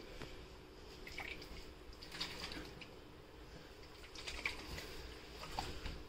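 Water dripping and trickling from a filled kids' unicorn tumbler with a straw during a leak test, soft irregular drips and patter at close range, fairly quiet over a low background hiss.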